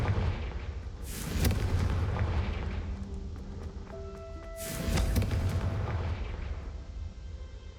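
A Confringo fire spell detonates in Hogwarts Legacy, two heavy, booming blasts a few seconds apart, each a sharp crack trailing into a rumbling roar, loud and close with no talk over them.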